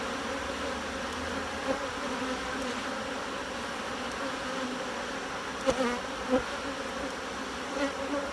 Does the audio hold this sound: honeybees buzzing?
yes